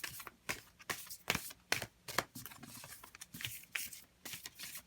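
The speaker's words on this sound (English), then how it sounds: "Oftentimes when I'm shuffling" A deck of oracle cards is shuffled by hand during a card reading, giving quick papery riffles and soft slaps in short repeated bursts, close and fairly quiet with no talking.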